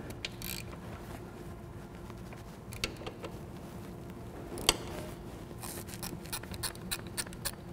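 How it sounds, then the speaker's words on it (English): A ratchet breaks loose the oil drain plugs on an Indian Scout motorcycle, giving faint mechanical clicks and clacks scattered over a low background hum, a few sharper ticks standing out. No voices. "So now we're going to remove the drain plugs. We're just going to break them loose."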